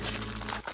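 Plastic packaging crinkles as a keyboard is unboxed, a close, continuous rustling crackle for under a second that eases off briefly near the end.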